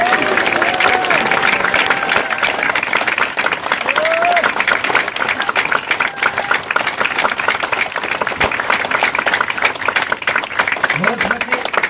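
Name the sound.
audience applause at campaign event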